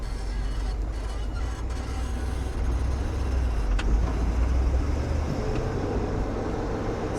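A 1975 Ford F100 4x4 pickup on new shocks drives steadily, its engine a constant low rumble close inside the cab with road noise, and a faint voice is heard briefly.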